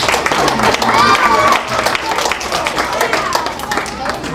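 A loud crowd claps and cheers, the applause swelling early then holding steady with voices mixed in.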